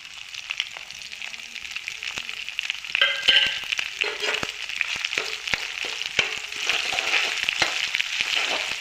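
Green chili thecha goes into hot oil with spluttering mustard and cumin seeds in a kadhai for methi bhaji. A close, steady sizzle is broken by frequent sharp crackles and pops throughout, and no one speaks.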